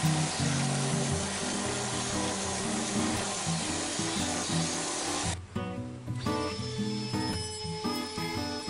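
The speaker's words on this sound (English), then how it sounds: "Now a little bit of sanding all over using everything I've got." Steady, loud power-sander whir on a wooden cutting board runs throughout, with the tone dropping and shifting partway through as the tool changes pressure or pace.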